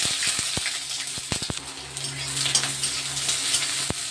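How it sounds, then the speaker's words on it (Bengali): Onion frying in hot oil until browned, with a bright steady sizzle and hiss broken by sharp clicks and taps of a utensil against the pan. "পেঁয়াজটাকে একটু ব্রাউন কালারে ভেজে নিচ্ছি।"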